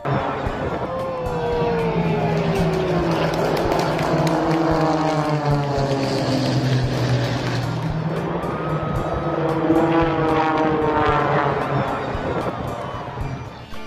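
Droning engine noise with rising and falling harmonic whine, steady and fairly loud throughout, as three small propeller aircraft pass low over a crowd.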